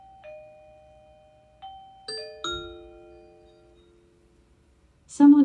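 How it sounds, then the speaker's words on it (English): An Uffizi security video doorbell chimes several clear tones in sequence, each ringing out and fading, followed by a short burst of louder sound at the end. "Someone is at the doorbell."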